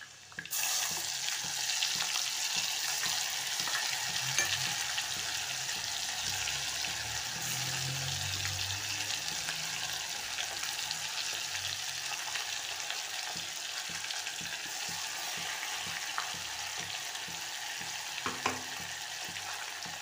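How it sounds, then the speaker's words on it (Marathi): Spiced besan paste cooks in oil in a pan, a steady close sizzle and crackle running throughout with occasional scrapes of a stirring utensil and a faint clink near the end. "तर आपण आता पेस्ट शिजवून घेऊ।"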